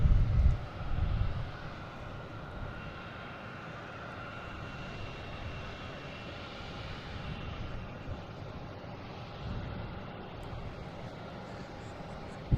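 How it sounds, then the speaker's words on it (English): JetBlue airliner backing out from the gate at Boston Logan, a steady low engine rumble holding throughout with a louder thump at the start, alone without talk. "that JetBlue is backing out that I was wondering about"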